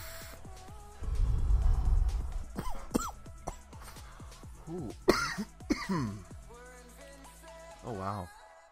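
A burst of coughing with rough throat-clearing, followed by a few scattered coughs and breathy exhales, fairly close and loud.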